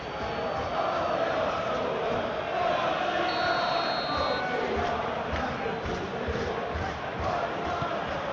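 A big stadium crowd in a soccer video game keeps up a steady, dense roar and chant throughout, with faint commentary talk mixed underneath.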